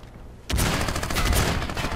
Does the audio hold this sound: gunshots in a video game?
yes